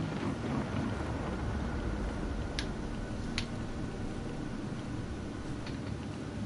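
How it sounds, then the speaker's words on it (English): Steady rain pours in the game Chernobylite as a dense, even hiss with a low rumble beneath it, and a few faint sharp ticks break through the downpour. "obviously it is raining"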